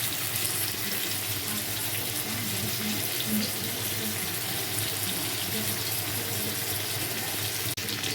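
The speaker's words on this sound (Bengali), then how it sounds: "বেগুনটা ভেজে তুলে নিয়ে তারপরে আলুটা ভাজতে দেবো" Potatoes frying in hot oil in a pan, giving a steady, dense, close hiss of sizzling that runs unbroken throughout with little change in loudness.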